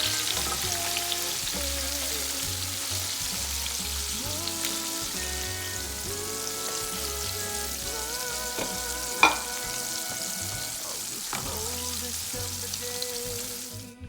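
Panko-coated salt and pepper shrimp fry in hot oil, a dense continuous bubbling sizzle heard up close for the full stretch, with one brief sharp clink partway through.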